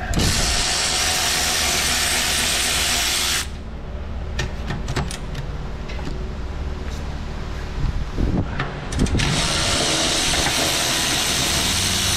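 An electric ratchet unbolts a brake bracket on a Toyota Sienna 3.5 minivan, whirring loudly in two sustained bursts at the start and end, with quieter clinks and handling noises in between.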